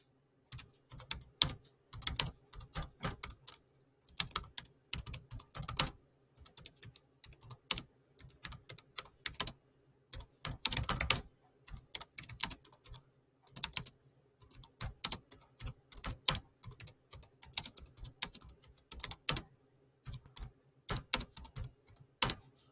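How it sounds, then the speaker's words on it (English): Typing on a laptop keyboard, with irregular bursts of light, clicky keystrokes and short pauses between them, close and clear, over about twenty seconds with no talk. "This time I'm going to try typing on my laptop keyboard, but without hitting search."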